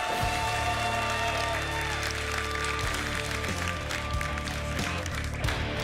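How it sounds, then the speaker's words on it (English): A crowd applauds esports players TRUEWHALE and SPIRES at the Summoners War SWC2023 Americas Cup, with steady clapping blended under loud, continuous music tones for the whole stretch. "can we get a round of applause for TRUEWHALE and SPIRES"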